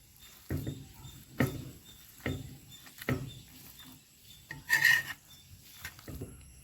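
Cooked onions are mashed in an uruli pan in a series of soft, dull thuds and scrapes, about seven strokes at a steady uneven rhythm, close and quiet with no talking.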